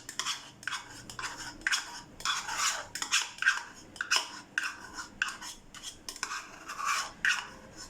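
Chicken and yogurt are stirred together in a bowl, a close, wet rhythmic scraping and squelching that repeats in short strokes, with no talk over it.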